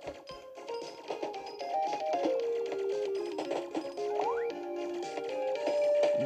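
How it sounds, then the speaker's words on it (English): Electronic blips and tones from the mobile game Ball Blast play at moderate level, including a quick rising power-up chime among the stepped beeping game effects. "That was the sound of a power-up."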